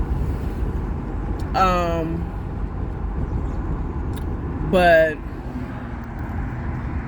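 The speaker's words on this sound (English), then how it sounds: "The bus is coming." A bus draws near over a steady low road rumble, with two brief, loud, descending tonal whines like brakes or engine easing down; a voice speaks briefly.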